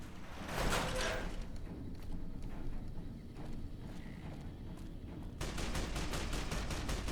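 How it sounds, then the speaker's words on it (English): Gunfire crackles through the Fallout: New Vegas wasteland, scattered shots giving way to a rapid, evenly spaced burst of automatic fire, fairly quiet and somewhat distant over a low background rumble. "follow the sound of shooting"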